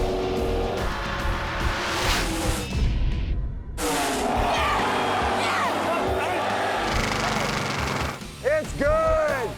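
Two muscle cars, a '72 Camaro and a 1970 Chevelle, launch in a hot-lap drag race final at Route 66 Raceway, loud engines roaring close by through the run with tire noise and a brief break midway, under a commentator's voice.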